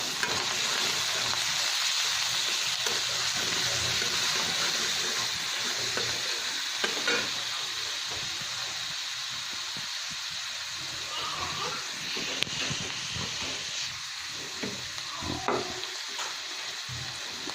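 Small whole shrimp fry in a pan with a continuous bright sizzle and hiss, broken by occasional stirring scrapes, close and fairly quiet, with a voice now and then.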